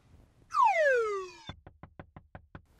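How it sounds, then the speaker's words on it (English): Knocking on a door: a run of about eight evenly spaced, crisp raps following a bright descending tone, with no talk. "I'll get the door."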